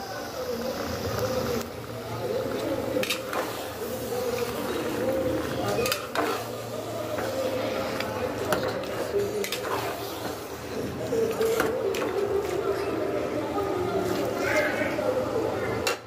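Goat meat goes into a pan of frying spices, giving a steady sizzle with scraping stirs throughout, while a person talks over the cooking.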